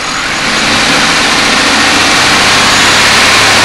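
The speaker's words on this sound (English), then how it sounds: "The first one is revving the engine up to 2500 RPMs and holding it steady." A car engine revved up and held at a steady 2500 RPM during an exhaust back pressure test, a loud continuous broadband drone that rises briefly at the start and then stays constant, with no talk.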